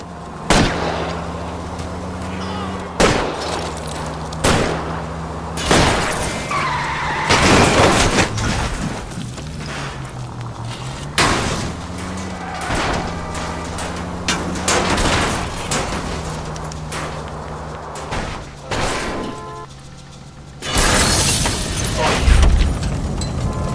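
Gunshots fired at the rear tires of a fleeing car in L.A. Noire, loud sharp cracks spaced every few seconds over a droning engine and road noise, with several closer, heavier bursts.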